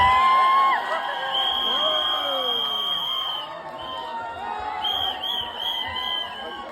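Crowd at a film premiere cheering and whooping, loud at first then settling into a lively ongoing roar of shouts and scattered clapping.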